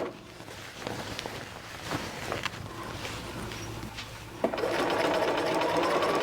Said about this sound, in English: moving the fabric around as needed to get this all sewn in.